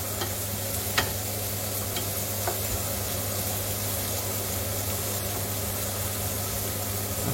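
Kitchen range hood fan running on its high setting, a steady broadband whoosh with a low hum, constant throughout with a couple of faint clicks and no voices.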